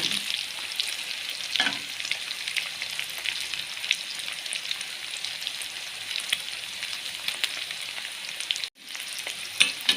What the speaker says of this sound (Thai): เอาหมูใส่กระทะแรงนะคะ